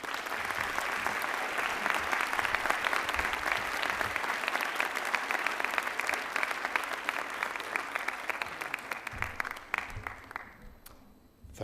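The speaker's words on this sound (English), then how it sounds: "Please give yourself a big round of applause." An audience at a 2023 white coat ceremony gives sustained applause, a dense roar of clapping that holds steady for several seconds and then fades away.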